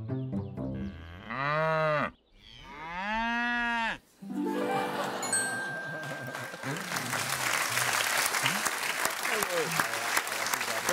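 Lower Saxony black-and-white cattle give two long, drawn-out moos, loud and near, followed by a dense wash of crowd-like applause noise.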